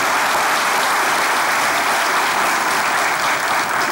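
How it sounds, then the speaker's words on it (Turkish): Studio audience of a Turkish comedy show breaking into applause, a loud, dense, continuous wash of many hands clapping that holds steady throughout. "Onlara kocaman bir alkış."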